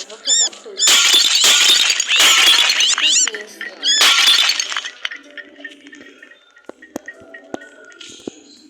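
A cat in a game knocks over and smashes glass objects, loud bursts of shattering and tinkling fragments in quick clusters, then scattered smaller clinks and thuds as the breaking dies down.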